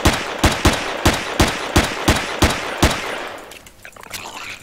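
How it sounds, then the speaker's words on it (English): Handgun fire in the sci-fi survival game Empyrion Galactic Survival: eight loud, sharp shots in a steady rhythm, then the echoing tail fades into game ambience. "I'll shoot a slime in the face."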